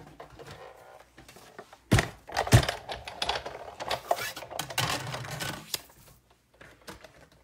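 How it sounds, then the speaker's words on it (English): A Big Shot hand-cranked die-cutting machine rolls through paper with clunks and a grinding, uneven mechanical rumble lasting a few seconds, near and moderately loud, before quieting. "let me bring the Big Shot in so I can cut that out"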